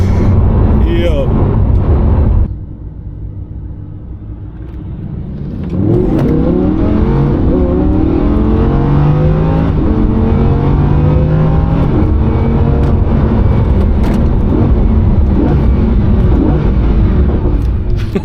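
A Lamborghini Huracan accelerates hard from inside the cabin, engine roaring loudly, briefly dropping during a gear shift before climbing again in rising revs, with someone talking over it.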